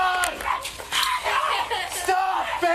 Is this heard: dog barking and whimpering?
yes